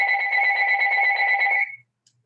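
A phone rings during a university computer science lecture held over Zoom: one steady, loud electronic ring lasting about a second and a half, then cutting off into silence.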